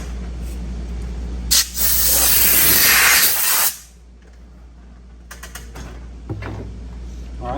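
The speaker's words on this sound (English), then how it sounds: "Go ahead and blow those shavings out of there" A strong burst of compressed air blasts metal shavings off a chainsaw bar, a loud hiss lasting about two seconds before cutting off, followed by faint clicks and small workshop sounds.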